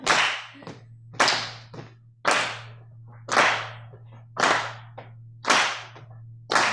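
Sharp claps ring out at a steady, unhurried pace during a church service, loud and close. Each slap is followed by a brief decay over a low steady hum.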